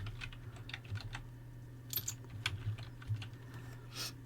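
Typing on a computer keyboard, soft quick key clicks in an irregular run over a low steady hum, close and quiet.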